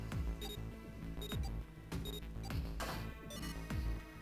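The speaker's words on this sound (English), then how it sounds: "The beeping stopped." Electronic alarm beeping from the video game 999: 9 Hours, 9 Persons, 9 Doors, repeating tones in a steady rhythm, each pulse sharply struck and ringing briefly, loud and close with no voices.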